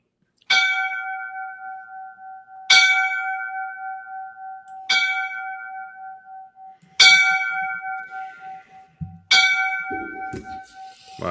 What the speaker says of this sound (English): I'm going to give him the 5 bells line of duty.